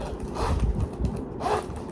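A zipper runs along the top of a black Dooney & Bourke Bella bag, making a close, quiet rasping pull of about two seconds with no talking.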